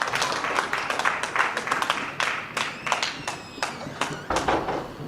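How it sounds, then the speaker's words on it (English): Audience clapping at a community union's fifth anniversary celebration in Ireland, a dense round of applause with sharp overlapping claps sustained for about five seconds. "A round of applause to Mr. Busuyi Adedeji."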